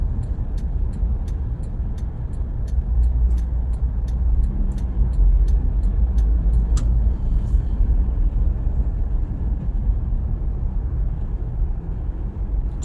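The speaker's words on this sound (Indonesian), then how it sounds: "sekarang hingga di kilometer 12 ini kendaraan sudah sangat padat, bahkan cenderung macet." Dense, slow-moving car traffic on the JORR W1 toll road in Jakarta, heard as a steady, continuous low rumble of engines and tires with faint brief clicks above, no voices.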